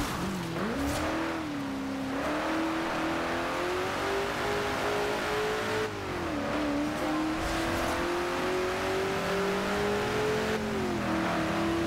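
The mid-mounted V6 of a Lotus Evora drifting on wet roads in the racing game Forza Horizon 2 drones steadily, its pitch rising and dipping through continuous revving with no pauses.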